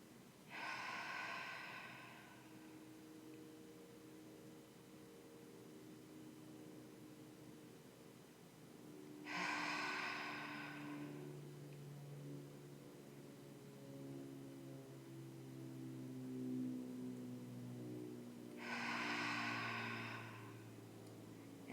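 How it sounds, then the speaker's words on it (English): Three deep, slow breaths in and out during a guided meditation, each a soft airy rush about nine seconds apart, over a quiet sustained musical drone. "Let's take 3 nice big breaths"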